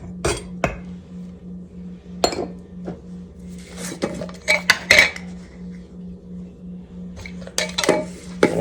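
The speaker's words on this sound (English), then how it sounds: "I'm going to give that a whisk." Flour and salt being whisked in a bowl, with irregular metallic clinks and taps of the whisk against the bowl, some in quick bursts and others isolated, close and clear with no talk.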